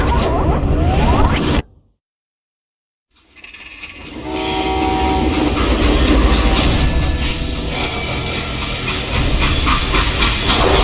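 A loud freight train in the video game Call of Juarez: Gunslinger rumbles and hisses with a steamy roar, drops to a brief silence, then returns with heavy clattering motion and a faint whistle-like tone.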